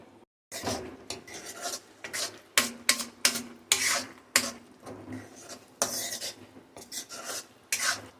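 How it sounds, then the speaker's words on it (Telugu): Potatoes for Kashmiri dum aloo are fried and stirred on a low flame, heard as close, irregular scraping and rasping strokes of a utensil against the pan, with occasional metallic knocks and no talking. "ఒక 10 నిమిషాల పాటు లో ఫ్లేమ్లోనే దీన్ని వేయించుకుందాం."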